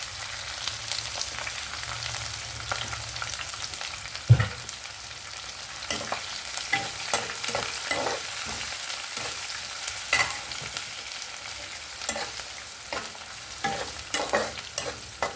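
Onions and green chillies frying with cumin in a pan for a Telugu brinjal curry, a steady close sizzle with repeated scraping stirs and one sharp clank of the utensil, no talking.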